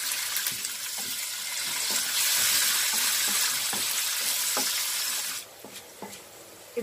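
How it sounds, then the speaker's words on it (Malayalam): Curry leaves and garlic sizzle in hot oil on a low flame for an eggplant curry, a steady close frying hiss with light stirring scrapes, briefly dropping quieter near the end. "കറിവേപ്പില, പിന്നെ ആ ഒരു വെളുത്തുള്ളിയുടെ അരി, ഇത്രയും സാധനങ്ങൾ മുഴുവനും നമ്മൾ എണ്ണയിലേക്ക് ചേർത്ത് കൊടുക്കാം"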